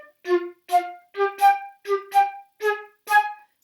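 A flute plays a short passage entirely staccato, eight crisp, detached notes with silence between them, clear and close with no talking.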